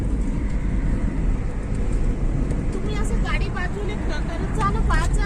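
A car climbs the hill road to Saptashrungi Gad near Nashik with a continuous low engine and road rumble. People talk over the drive throughout.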